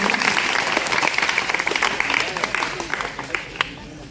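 A crowd at a school event in India claps loudly and continuously, the applause gradually thinning out toward the end.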